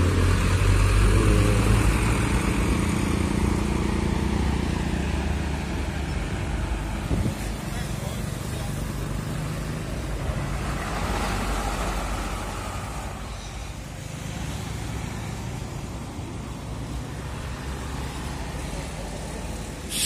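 A truck loaded with cassava drives through a bend, its engine a loud, heavy rumble that rises and eases, with people talking over it.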